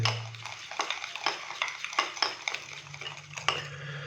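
A spoon beats instant coffee inside a cup, giving rapid clinking and scraping strikes in an uneven rhythm, close and clear with no talking.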